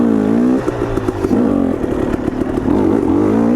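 A KTM 250 XC dirt bike engine revs and drops through the gears on a downshift, a loud, buzzy two-stroke note that rises, dips and sputters between shifts.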